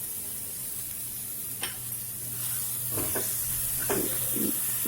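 Turmeric, salt, cumin and chili powder fry in a pan with a steady close sizzle, broken by a few short scraping stirs near the end, with a low hum underneath.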